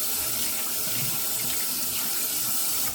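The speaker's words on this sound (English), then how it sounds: "Rinse one of the hands off there." Tap water runs steadily into a sink while hands are rinsed under it after a straight razor shave, a constant close hiss with faint splashing and no talk.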